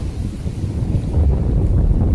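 Wind blows hard at the seaside near Karwar, a loud, low, buffeting rumble that rushes steadily against the microphone with no voices.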